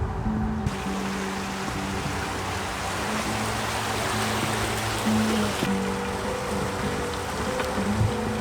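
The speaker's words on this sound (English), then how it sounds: "when we hit the locks, the first bout of rain came in" Rain falls steadily by canal locks as a dense, even hiss, with a low boat engine droning beneath it throughout; no voices.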